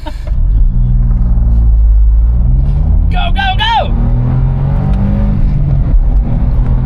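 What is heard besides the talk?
Smart car accelerating 0-60 mph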